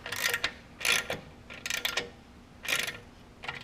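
Ratchet with a 10 mm socket tightening an exhaust clamp on a Triumph Bobber with a Gasser Customs exhaust: five short bursts of rapid clicking, close and fairly quiet, separated by brief pauses.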